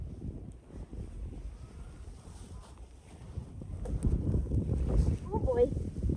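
Blizzard wind on a Canadian homestead in winter gusts low and rough across the microphone, rumbling and buffeting and growing stronger toward the end, with a faint muffled voice at moments.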